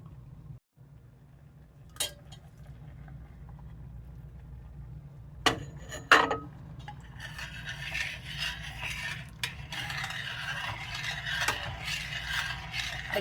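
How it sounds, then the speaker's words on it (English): A metal spoon scrapes softly inside a pot of simmering fruits and raisins, a faint steady rasping with a few light clinks, growing somewhat busier toward the end. "I try not to be offensive with the sound of the spoon on a pot"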